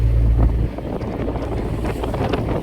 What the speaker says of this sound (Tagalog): Malakas na po yung hangin at saka alon.